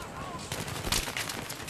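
Gunfire in the Battlefield 3 video game: dense, crackling bursts of shots and impacts ring out steadily, with one louder shot near the middle and a voice talking in the background.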